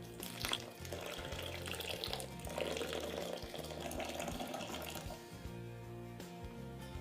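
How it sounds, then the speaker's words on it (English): Water pours steadily into a cold brew coffee maker over a filter bag of grounds, a soft continuous splashing stream, quiet and close. "Seven cups of water are in."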